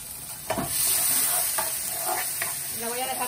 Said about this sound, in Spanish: La voy a dejar que se fría un poco